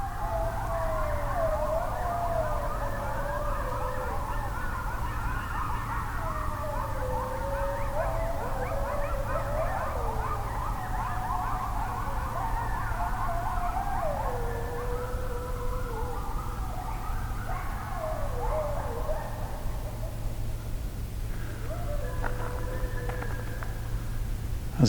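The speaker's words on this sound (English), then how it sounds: "These are coyotes, also known as the song dogs" An eastern coyote pack howls in chorus at night, a wavering, siren-like mix of rising and falling howls and yips that carries on steadily over a low, constant background hum.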